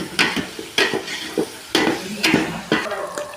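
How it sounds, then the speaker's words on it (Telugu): Tripe (boti) frying in a pan with chili powder for a large feast, stirred in repeated scraping bursts about every half second over a steady sizzle, close and fairly loud. "బోట్ వేసి ఫ్రై చేస్తున్నామండి దాంట్లో కారం కూడా వేస్తున్నారు"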